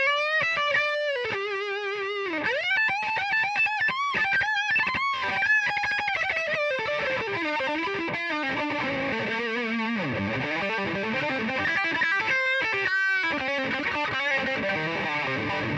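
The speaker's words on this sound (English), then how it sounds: "Let me just give you a demo of the amp on high gain as well." Fender Roadworn 60s Stratocaster played through an Orange Dark Terror amp on high gain, a saturated distorted guitar with sustained notes, bends and melodic runs, loud and continuous with no talking.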